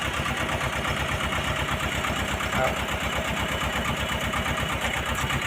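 A used Japanese tractor engine chugs steadily at a fast, even pulse while the loader is raised, running close and continuous for several seconds with background voices faintly underneath.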